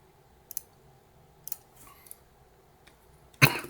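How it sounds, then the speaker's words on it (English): One abrupt, loud cough from a person playing a Pokémon match, following a quiet stretch of faint scattered clicks and small mouth noises. "Sorry for the cough."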